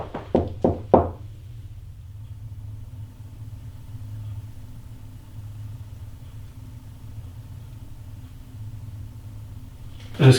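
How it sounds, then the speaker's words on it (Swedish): A few quick knocks on a door or wall in a house, a tight cluster of three or four close, loud raps, then a long low hum and a final knock at the end. "Kan du bara knacka så här en gång?"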